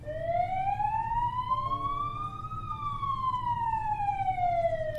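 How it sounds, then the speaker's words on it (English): An ambulance siren sweeps slowly up in pitch and then back down in one long wail. It is loud and clear over a low rumble of traffic. "Jake, call an ambulance!"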